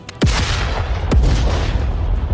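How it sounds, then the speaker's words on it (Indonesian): Two deep, booming blasts about a second apart, each hitting hard and rumbling off, with a dull roar lingering between them. "ke dalam kepompong yang berisi tubuh Yasha, ledakan besar terjadi."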